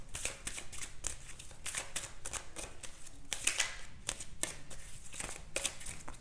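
Oracle cards are handled and shuffled by hand, giving a close, quiet run of rapid papery flicks and riffles in uneven bursts over a faint steady background hiss.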